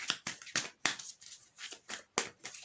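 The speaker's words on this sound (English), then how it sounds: "I get a little reckless when shuffling them" Tarot cards, a little large for the hands, are shuffled in quick bursts: crisp riffles and flicks at close range, about nine separate strokes, fairly quiet and with no voice over them.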